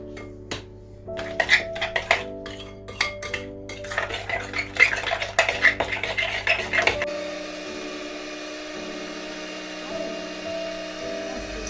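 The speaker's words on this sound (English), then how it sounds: "And then I'm just gonna stir that gently" A sugar mixture for lemon meringue pie being stirred in a pot, with a spoon scraping and clinking against the metal in quick irregular strokes for several seconds before it fades to a quiet hum.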